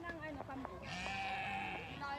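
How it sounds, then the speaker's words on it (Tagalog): A goat bleats in a long wavering cry, close by, outdoors on a mountain in La Trinidad, Benguet, with a person's voice briefly heard around it. "May kambing dito guys."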